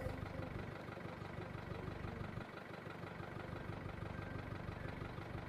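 A small farm tractor idles beside a water tank on a cattle farm, a steady low, faint mechanical rumble with no talking.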